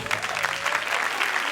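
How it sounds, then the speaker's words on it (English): Audience applause for a game show contestant, a short burst of steady clapping from a crowd, fairly loud and close, no speech over it. "let's have a warm, welcoming round of applause for contestant number 3"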